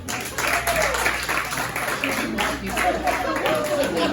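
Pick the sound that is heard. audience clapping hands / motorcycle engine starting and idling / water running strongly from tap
audience clapping hands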